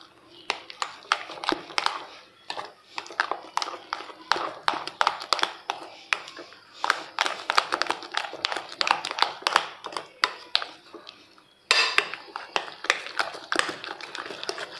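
Dough mixture being stirred and worked by hand in a pot for honey-soaked Eid butter cookies, giving rapid, irregular tapping and scraping knocks close up, steady throughout with a brief pause near the end.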